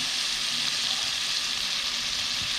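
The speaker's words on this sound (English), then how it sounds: "Start off by putting a little bit more than a half a stick of butter in there." A little over half a stick of butter melts in a pan on the stove, giving a steady, close hiss and sizzle that holds even throughout, with no talking.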